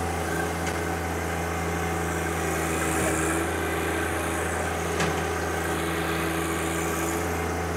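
Loader's engine running at full throttle to drive doubled hydraulic flow, a steady loud drone with a low hum and broad mechanical noise, nearly constant, with faint clicks and brief shifts in load.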